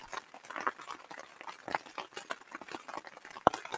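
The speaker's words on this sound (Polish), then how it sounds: "Załapaliśmy się na całkiem spory deszcz. Pewnie słychać." Dense, irregular pattering of heavy rain close by at a mountain lake campsite in Romania, with scattered sharper drops and taps standing out against the steady downpour.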